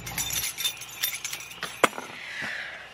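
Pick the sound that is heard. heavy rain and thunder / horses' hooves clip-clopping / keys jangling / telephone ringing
keys jangling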